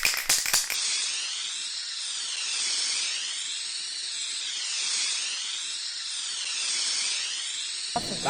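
A spray paint can hisses steadily while a graffiti tag is painted, a loud, close, continuous spray that swells and eases in slow waves after a few brief clicks at the start.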